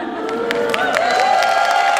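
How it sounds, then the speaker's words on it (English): Audience at a community event in a Queens museum in New York applauds and cheers for a young child, steady clapping with whoops close by, no distinct talk over it. "She gets the biggest applause of all"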